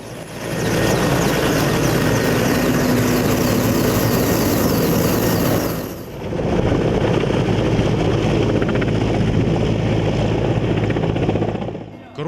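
A Mi-14 naval aviation brigade helicopter roars loudly and continuously in flight, its dense rotor and engine drone dipping briefly midway before surging back, with speech faintly mixed in.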